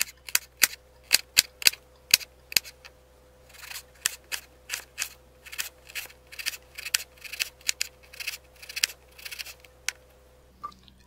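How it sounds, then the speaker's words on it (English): A knife mincing an onion on a cutting board, sharp irregular chopping clicks, some quick and close together, others sparser, fairly quiet and close with no talk. "Mince the onion."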